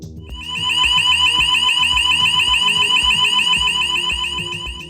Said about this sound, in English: The gas detection system alarm will automatically sound.